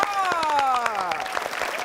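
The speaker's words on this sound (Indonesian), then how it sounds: "ayo tepuk tangan" A studio audience on an Indonesian word-game show claps steadily, the applause running beneath a bright descending electronic jingle, with a voice faintly present.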